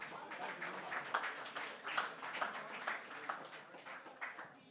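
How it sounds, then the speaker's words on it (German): A pub crowd at an Astronomy on Tap evening in Bonn applauds a raffle winner: fairly faint, steady clapping from many hands with small swells, continuing for several seconds. "Großer Applaus für unseren ersten Gewinner."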